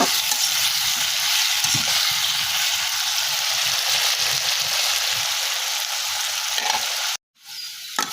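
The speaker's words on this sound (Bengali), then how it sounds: "দেখো বন্ধুরা আলুগুলো ভেজে নিচ্ছি" Potato pieces fry in hot oil in a pan after fish in a Bangladeshi village kitchen, a loud, dense, continuous sizzle with faint stirring beneath, broken off by a short gap near the end.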